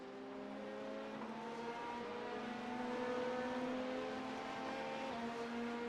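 LMP2 prototype race car in the iRacing sim overtaking at Spa during a six-hour multiclass enduro, a steady droning engine tone with layered harmonics that swells slightly mid-pass, no talking.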